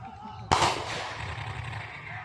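A simulated grenade blast during an NCC cadet section attack demonstration at camp cracks out as a single sharp bang, followed by a rumbling, slowly fading echo over faint background noise.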